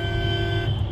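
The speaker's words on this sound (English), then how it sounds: "And now I'm going to honk here." Car horn held in one long steady blare inside a road tunnel, loud and close over engine rumble, cutting off near the end with no talking.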